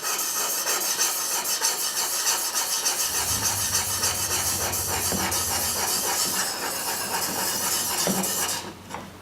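A woodworking chisel or plane blade is sharpened to raise a burr, giving a continuous rasping, hissing scrape of steel on stone, steady and close with rhythmic strokes and no talk.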